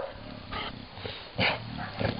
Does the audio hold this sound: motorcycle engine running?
no